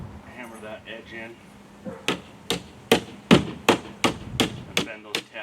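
Hammer blows drive in the edge of a wild animal crate built for a Halloween display, about nine sharp, evenly spaced metallic strikes following a short stretch of talking.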